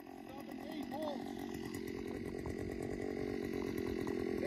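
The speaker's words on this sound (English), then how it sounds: "We're drilling the last hole." A powered ice auger drills a hole through frozen lake ice for setting a gillnet, its engine a steady loud buzzing drone throughout.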